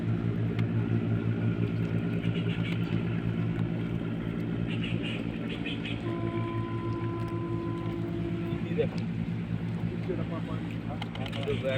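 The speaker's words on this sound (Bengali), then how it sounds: "দূর থেকে আর একটা জাহাজ আসছে, দুটো জাহাজ চলে গেল ক্রস করে" Bangladeshi ships passing and crossing one another on a river, heard as a steady, close, low engine drone with a throbbing hum that holds throughout, with faint voices in places.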